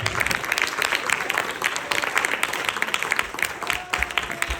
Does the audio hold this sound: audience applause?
yes